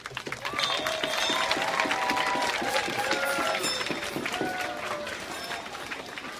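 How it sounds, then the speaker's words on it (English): An outdoor crowd at a Dartford Borough Council Saint George's Day event in Kent applauds, with dense clapping and cheering that holds steady and then fades slightly, and voices mixed in. "I think they deserve a round of applause for this fantastic event"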